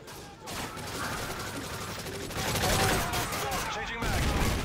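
Rapid bursts of gunfire crackle in Modern Warfare 3 Survival mode, dense continuous shooting with a few louder flurries filling the clip.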